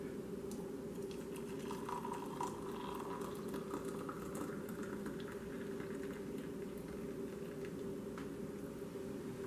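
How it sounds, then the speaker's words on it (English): Water coming to a boil in a kettle gives a steady, fairly quiet rushing hiss with faint bubbling and crackle, continuous throughout without talk. "So I'm going to boil some water in the kettle, and we'll see what happens."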